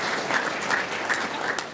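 Applause from the audience at a civic State of the City address, a steady dense patter of many hands clapping throughout the short moment, fairly loud and with no talk over it.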